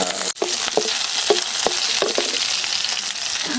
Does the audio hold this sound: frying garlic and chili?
yes